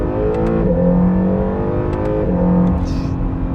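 A 2019 Acura NSX supercar pulls away under steady engine power, a loud, close, continuous drone that rises in pitch twice as it accelerates through the gears, with no talk over it.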